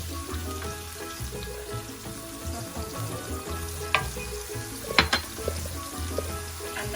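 Shrimp sizzle in a hot pan as cornflour is quickly stirred in for Trinidad pepper shrimp, a steady frying hiss with scraping stirs and a few sharp clinks of utensil on pan.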